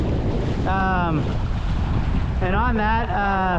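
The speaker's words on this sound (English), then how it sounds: "Normal wind today, we get a southeast trade wind" A southeast trade wind roars and buffets steadily over a Hobie sailboat off South Padre Island, Texas, with rushing water beneath. Someone speaks briefly.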